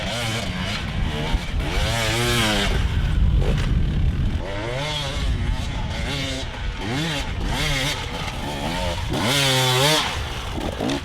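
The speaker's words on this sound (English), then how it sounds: "I want you to listen to their motorcycles" Dirt bike motorcycles climb a steep hill, several engines snarling and revving in rising, wavering bursts, loud and layered throughout with a busy outdoor background.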